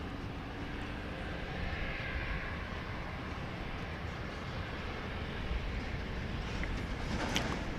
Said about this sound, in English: there is another plane getting ready to take off